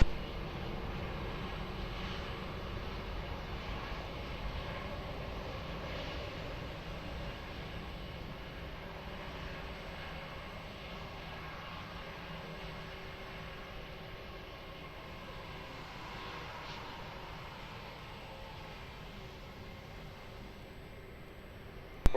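A departing plane's aircraft engine at Lisbon Airport gives a faint, distant, even rumble that hangs steadily across the whole stretch with no clear rise or peak.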